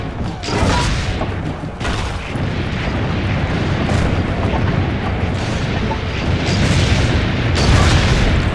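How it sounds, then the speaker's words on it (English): Cannon fire and battle noise in the Assassin's Creed Brotherhood video game form a loud, continuous roar of booms and blasts lasting throughout, with heavier bursts near the start and end. "Aim for the cannon, Signore!"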